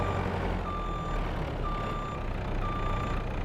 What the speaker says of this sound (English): It's got a nice beeping reversing sound.